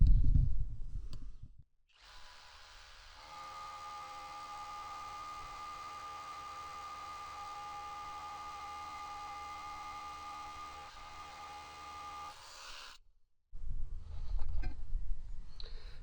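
An Erbauer 18 V cordless hammer drill runs steadily for about ten seconds, boring a 20 mm hole into a concrete slab with a constant grinding whine, set apart from brief handling noise before and after.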